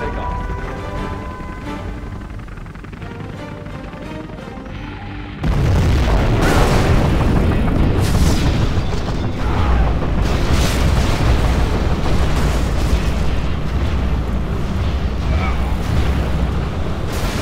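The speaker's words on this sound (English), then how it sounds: "Our scud storm is ready, General. We have launched our nuclear missile." Nuclear missile and scud storm blasts from the Command & Conquer Generals Zero Hour strategy game: a sudden loud, sustained rumbling barrage kicks in after a few seconds of quieter game sound and rolls on with repeated booms.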